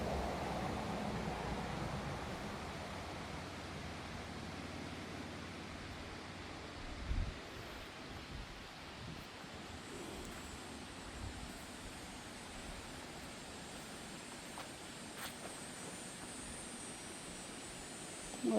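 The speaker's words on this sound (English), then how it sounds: "Right alongside the creek, McCASLIN Brook." McCaslin Brook, a creek beside a campsite, flowing with a continuous broadband rush of water, steady and fairly close, with occasional faint bumps and rustles.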